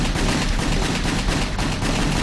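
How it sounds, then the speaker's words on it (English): Upgraded pistols in the action game WET firing as fast as the trigger can be pulled, a dense, loud, continuous stream of gunshots with no pause. "we got our pistols fully upgraded in speed, so now they fire as fast as I can pull the trigger"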